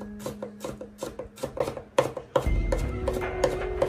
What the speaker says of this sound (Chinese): 然后剁成蒜末。